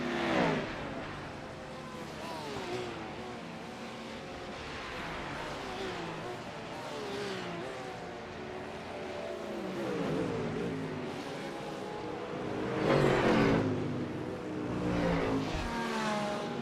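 Ford Mustang GT race cars in a sim racing game, engine notes rising and falling with gear changes throughout, under continuous live commentary, with a louder revving surge near the end.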